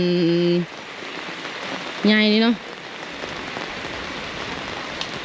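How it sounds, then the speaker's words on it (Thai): Steady rain falling on a surface around a house in rural Thailand, a continuous broadband patter throughout, with brief bursts of people talking over it at the start and middle. "ฝนก็ตก"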